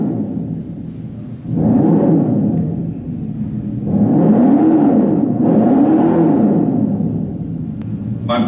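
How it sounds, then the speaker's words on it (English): Dodge Charger Daytona EV in a louder drive mode, giving off a loud synthetic engine-like roar that swells and falls in several revving surges, close and alone without talk. "I'm changing the sound, or the drive modes to go louder."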